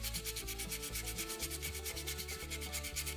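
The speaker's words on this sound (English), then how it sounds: "So I'm on to my second piece of sandpaper." Sandpaper rubbed by hand over a wood carving in quick, steady back-and-forth strokes, a close, continuous rasping rhythm with no talk.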